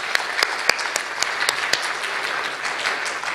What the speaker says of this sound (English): really a big clap